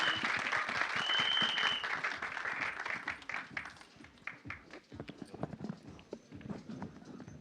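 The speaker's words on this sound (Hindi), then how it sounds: "एक बार जोरदार तालियां." Audience applause at a Hindi film trailer launch event, a dense wash of clapping that is loudest at the start, then thins into scattered claps and fades over several seconds.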